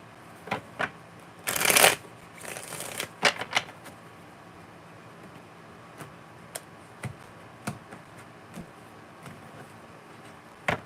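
A deck of cards is riffle-shuffled in two quick bursts, followed by scattered single taps and clicks of cards being handled and set down in a quiet room.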